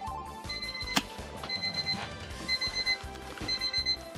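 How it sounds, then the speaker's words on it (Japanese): An alarm clock rings in rapid repeating bursts of pulsed beeping, steady and fairly close, over a background of electronic game music. "目覚ましも鳴ったし"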